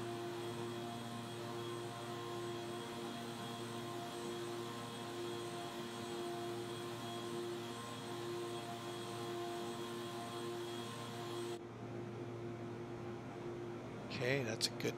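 Beechcraft C90 King Air twin turboprop climbing after takeoff in the X-Plane 11 flight simulator: a steady, loud engine drone with tonal hum holds throughout, thinning near the end as a brief clatter rises.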